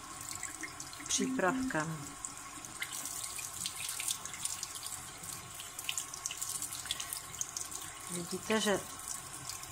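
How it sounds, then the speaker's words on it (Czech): Tap water runs into a sink as broccoli, one head treated with a cleaning product and one untreated, is rinsed under it, a steady faint flow with brief louder splashes, while a person talks over it. "Opláchneme a uvidíme, co udělá dál."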